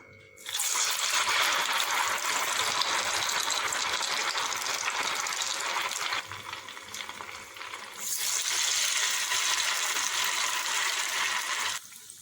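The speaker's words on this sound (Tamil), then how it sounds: "எண்ணெய் காஞ்சிடுச்சு. வடையை சேர்த்திக்கலாம்." Semiya rava vada dropped into hot oil and frying, a loud steady sizzling hiss that runs almost unbroken, dipping briefly in the middle before surging again, with no talking over it.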